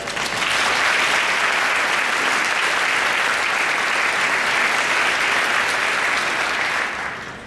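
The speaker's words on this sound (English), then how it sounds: "give all the teams a quick round of applause" Conference attendees at a closing session give the teams a round of applause, a full, even wash of clapping from a large room that holds steady for about seven seconds before tapering off.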